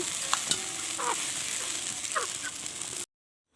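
Pasta is stirred in a hot pan, with a utensil scraping and tapping against the pan over a steady sizzle for about three seconds before the sound cuts to silence.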